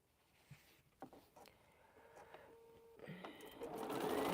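A sewing machine stitches quilt pieces, starting with a few faint isolated clicks, then building into a steady, rising mechanical whir toward the end, close by and alone.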